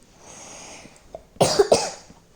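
A speaker with a severe cold coughs twice in a quick, harsh burst, close to the microphone, after a stretch of quiet background hiss.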